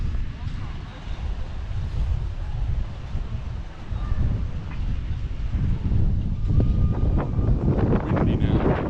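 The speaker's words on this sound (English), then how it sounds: "Windy now, getting close to the sea, and it's very, very breezy." Strong wind buffets and roars across the microphone near the sea at Palmanova, with a faint voice speaking under the steady gusty noise.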